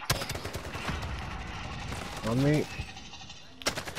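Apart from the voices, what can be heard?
gunfire in a video game shooter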